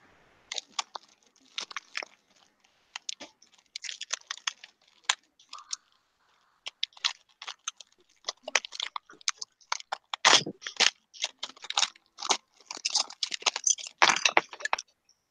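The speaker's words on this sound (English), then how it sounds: "who's eating the crunchy critters or whatever?" Someone crunching on a crunchy snack close to the mic, with rapid, irregular bites and chewing that grow louder and denser toward the end, with no talk.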